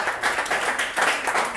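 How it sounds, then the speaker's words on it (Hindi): A crowd at a poetry gathering in Aligarh breaks into loud, dense applause honoring the poet Gopal Das Neeraj, a brief burst of many hands clapping together with no speech. "उनके लिए जोरदार तालियां होनी चाहिए"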